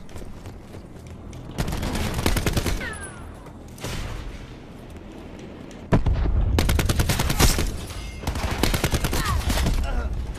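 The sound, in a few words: gunfire in Call of Duty Black Ops 4 video game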